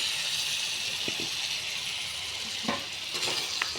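Chicken curry sizzling in a pot while it is stirred, a steady hiss of frying with a few soft scraping strokes of a spoon, close and moderately loud, with no voices.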